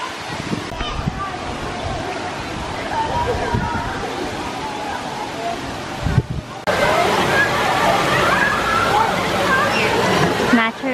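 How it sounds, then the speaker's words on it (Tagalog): Natural mountain spring water flows and splashes into a resort pool at Badiang Spring Resort in Valencia, Bohol, a steady rushing wash that grows louder partway through, with voices in the background. "Natural spring po yan."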